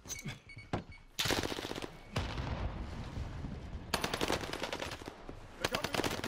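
Close, loud automatic gunfire in the Warzone video game, with rapid bursts and sustained streams of shots separated by brief gaps, plus a few heavier thumps and no talk over it.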